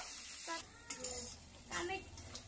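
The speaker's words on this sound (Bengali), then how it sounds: "আদা রসুন বাটাটাকে ভালো করে একটু নেড়ে নিতে হবে" Ginger garlic paste sizzles in a frying pan while being stirred for an egg pepper fry, a soft continuous hiss broken by scraping strokes of the spoon against the pan.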